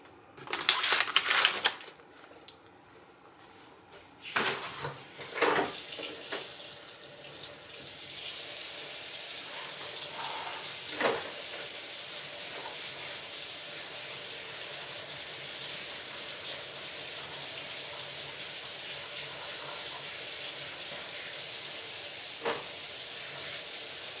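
Water spraying to moisten the top layer of soil over newly sown tomato seeds: a few rustling, crunching handling noises at first, then a steady, fairly loud hiss of falling water that continues to the end without talk.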